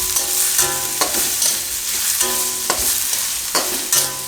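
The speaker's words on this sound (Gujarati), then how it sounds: "આપણે હવે ડુંગળી નાખી દઈશું આપણે તો ડુંગળીને થોડીક વાર આમાં ફેરવી લેવાનું" Onions being stirred and fried in oil for a roti Manchurian, with a crackling sizzle under repeated spatula strokes scraping the pan every half second or so, close and loud, no voices.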